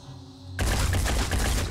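Gunfire erupts in the turn-based tactics game Phoenix Point after a quiet lead-in, a sudden loud burst of rapid repeated shots rattling on for over a second.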